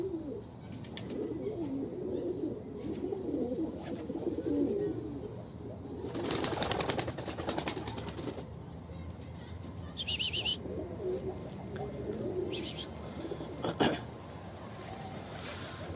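Breeding pigeons cooing inside a coop, with soft, repeated low coos from several birds close by, a few bursts of wing flapping and rustling, and scattered brief clatters throughout.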